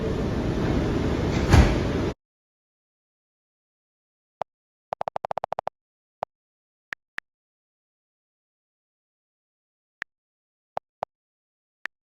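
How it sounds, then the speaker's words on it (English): Subway shuttle train doors on a Rockaway Boulevard-bound (S) line slide shut after a burst of station noise, followed by a quick rattling series of clicks and several sparse, sharp knocks spread over the following seconds in near silence. "Stand clear of the closing doors, please."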